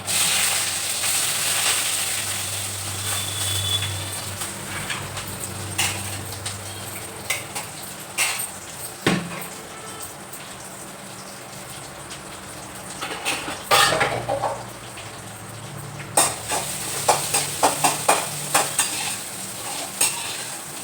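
Onion and dried red chillies fry in a pan while a spoon stirs them. A soft sizzle runs underneath, and irregular metallic scrapes and clinks against the pan grow busier toward the end, with no voices.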